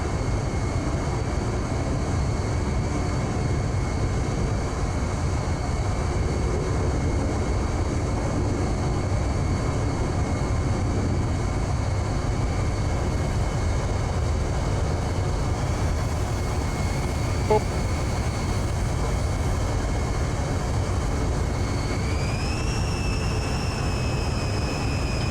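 Boeing 707 jet passing by in the naval combat game Sea Power, a loud continuous engine roar with a steady whine that rises in pitch near the end, no talk.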